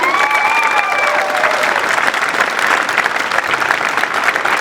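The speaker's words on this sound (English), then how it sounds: "Please join me in a big round of applause for the 7 o'clock jazz band" A morning crowd at a school ribbon-cutting ceremony gives a jazz band sustained applause, with a few whistles and cheers at the start before the clapping settles into a full, even roar.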